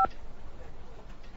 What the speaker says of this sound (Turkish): Ben muhasebe müdürüne bir telefon edeyim şimdi.